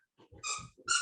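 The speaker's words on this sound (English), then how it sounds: "I just seem to have the most active dog in the world this evening" Dog barking indoors, two quick sharp barks close by after a few soft huffs, with no talking.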